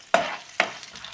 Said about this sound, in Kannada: ಒಂದು 1/4 ಕಪ್ಪಷ್ಟು ಒಣ ಕೊಬ್ಬರಿ, ಇಷ್ಟು ಚೆನ್ನಾಗಿ ಫ್ರೈ ಮಾಡಬೇಕು